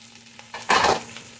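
Big white onions drop into a hot pan for bulalo, an ox feet stew, setting off a brief, loud sizzle that rises suddenly and then settles to a softer frying hiss.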